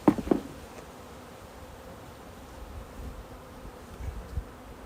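Honeybees in an opened hive during a summer inspection, agitated and excited, give a steady low buzzing drone that carries on throughout, with a couple of brief louder knocks near the start.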